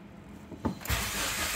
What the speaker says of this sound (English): when we just started the engine